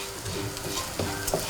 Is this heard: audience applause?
no